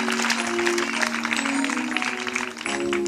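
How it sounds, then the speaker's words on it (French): A church congregation at a French-language worship service claps loudly and steadily for the Lord, with sustained keyboard tones ringing underneath. "On acclame fort pour le"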